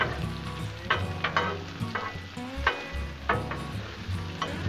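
Shrimp, sausage, peppers and onions sizzle on a Blackstone flat-top griddle, a constant frying hiss broken by repeated scraping strokes of a spatula pushing food across the steel, close and without voices.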